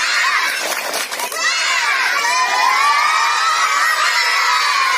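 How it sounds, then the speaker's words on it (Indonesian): Schoolchildren in an elementary Islamic history class shout together in a loud, continuous group chant, with a burst of sharp clapping early on amid the crowd of young voices. "sebelumnya kita tepuk semangat ya"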